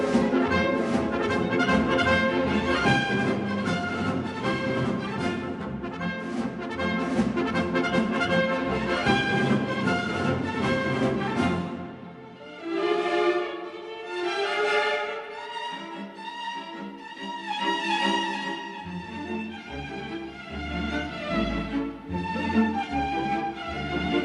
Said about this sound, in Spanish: Vamos a ver uno de sus fragmentos de una música suya